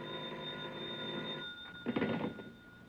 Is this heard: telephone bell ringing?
yes